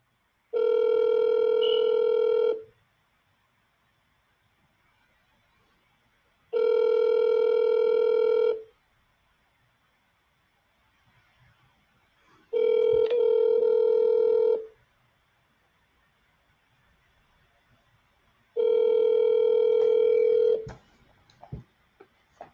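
An outgoing phone call rings unanswered, four long evenly spaced ringback tones of about two seconds each, separated by roughly four-second silences, clear and close over near silence.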